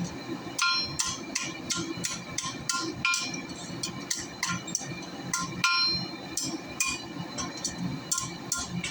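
Hammer blows ring out on hot metal while a dragonfly is forged, a rapid run of sharp clinking strikes with a bright metallic ring, close and loud, repeating in quick irregular bursts throughout.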